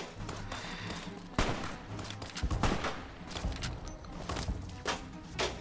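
Gunfire in the video game Fallout New Vegas comes as sharp bursts and scattered shots mixed with thuds, fairly close, spread across a few seconds, with no voices.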